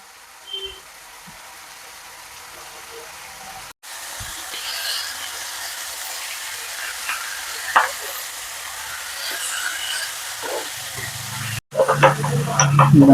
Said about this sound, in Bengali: দু চার মিনিট এর মধ্যে ভেজে নেব মশলাগুলো